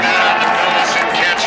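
A Nevada home crowd cheers at a 2002 college football game against Boise State, a dense, steady roar filling the stadium while a voice talks over it.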